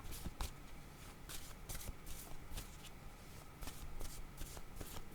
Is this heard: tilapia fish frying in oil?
no